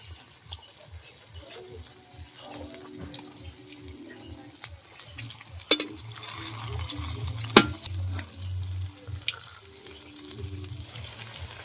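Twisted singara pastries frying in hot oil, a soft continuous sizzle close by with occasional sharp clinks and scrapes of a utensil.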